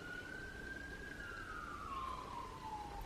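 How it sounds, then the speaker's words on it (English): A single siren tone wails in the distance, slowly sliding down in pitch as it passes, over a constant low background hum. "so many sirens go by"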